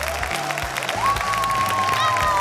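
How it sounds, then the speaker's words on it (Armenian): An audience at a children's talent show applauds loudly and steadily, with a host's voice carrying over the clapping. "Մի անգամ էլ բարձր ծափարություններ"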